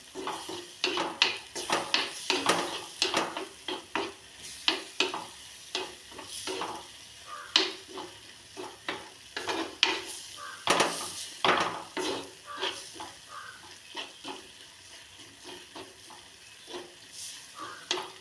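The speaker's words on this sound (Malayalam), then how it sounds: "അത് നന്നായിട്ട് വഴറ്റി കൊടുക്കുക." Ground coriander masala sautéing in a pan for an okra masala curry, with a spoon repeatedly scraping and stirring in irregular clinking strokes over a soft sizzle, close and fairly loud, no talking.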